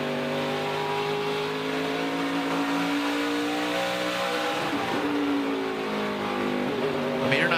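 A Chandler Smith race truck at Phoenix in 2022 revs hard as the driver gets back on the throttle mid-corner, a loud, steady engine drone with rising harmonic sweeps close by and continuous throughout.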